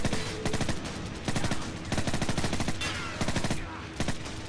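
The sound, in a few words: gunfire with suppressed weapon in video game Call of Duty 4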